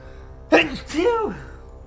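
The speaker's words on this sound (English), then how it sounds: "I really had to sneeze" A single loud, close sneeze: a sharp inhaled burst followed by a drawn-out voiced exhale, with quiet on either side.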